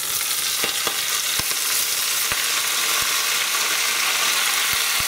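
Spinach and garlic frying in olive oil in a pan, a steady close sizzle with a few sharp clicks and stirring knocks.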